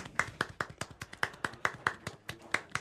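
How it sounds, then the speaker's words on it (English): A small audience gives a short round of applause for Margaret Harmon at a storytelling show, about a dozen distinct, fairly sparse claps in an uneven rhythm, moderately quiet and without talk. "A round of applause for Margaret Harmon."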